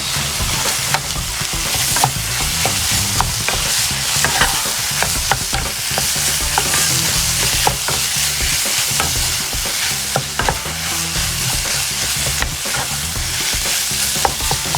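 Chicken hearts and livers are stirred in a hot pan with turmeric, giving a steady loud sizzle and frying hiss throughout, with repeated scraping and clinking of the spoon against the pan and no talking.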